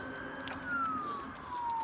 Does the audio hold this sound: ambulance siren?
yes